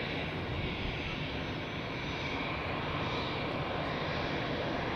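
A steady, broadband roar from an airliner taxiing at Zurich Airport, heard from a moderate distance as a continuous even jet-engine drone with no talk.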